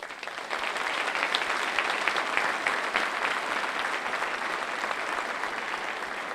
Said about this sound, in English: I think you should give all yourselves a round of applause.